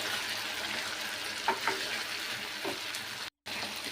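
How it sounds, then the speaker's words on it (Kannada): Ground masala frying with sprouted green gram gives a soft, steady sizzle with faint stirring scrapes and a few small pops, broken by a brief total silence near the end. "ನಾವು ರುಬ್ಬಿಟ್ಕೊಂಡಿದ್ವಲ್ರಿ ಆ ಮಸಾಲ ಕೂಡ ಇದ್ರೊಳಗೆ ಹಾಕಿ ಇದನ್ನು ಸ್ವಲ್ಪ ಚೆಂದಾಗಿ ಫ್ರೈ ಮಾಡ್ಕೊಳ್ಳೋಣ."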